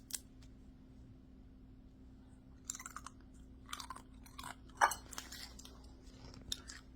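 Someone chews crunchy dehydrated chicken chips up close, producing a few sharp, sparse crunches over a steady low hum.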